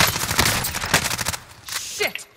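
Rapid automatic gunfire rattles loudly in Call of Duty: Modern Warfare, a dense burst of close shots for over a second before thinning into scattered fainter cracks and movement.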